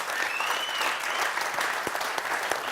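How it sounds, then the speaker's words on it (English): Audience applause for Fred fills the room, a dense steady patter of many hands clapping at close range, with a few sharper individual claps standing out. "Let's give Fred a great round of applause."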